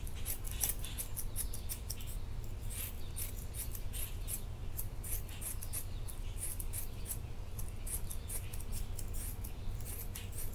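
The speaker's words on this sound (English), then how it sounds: "And I'll take some scissors and cut it out." Scissors snip repeatedly in a steady rhythm, close and fairly quiet, over a low background hum.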